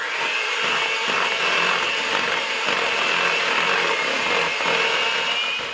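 An electric mixer beating apple spice gob batter after dry ingredients are added, a steady close motor whir with a high whine that holds constant throughout, no talking.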